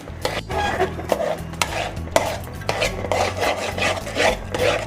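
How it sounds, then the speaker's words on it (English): A utensil scrapes and rubs rhythmically through a thick mixture of melted bath soap warmed on a low flame, with repeated strokes and no voices. "Mix it well."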